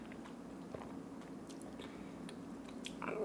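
Close, quiet bites and chewing on a bone-in brown sugar and soy sauce chicken piece with crispy skin, soft irregular crunches and wet mastication over low background noise, no talking.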